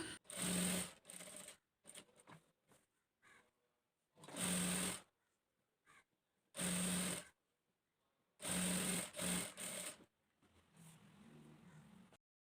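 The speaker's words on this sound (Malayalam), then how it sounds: "ചെറുതായിട്ടൊന്ന് മടക്കി സ്റ്റിച്ച് ചെയ്ത് കൊടുക്കുക." A sewing machine stitches the narrow folded hem of a top, running in several loud, close bursts of rapid whirring separated by short pauses, with quieter handling noise in between.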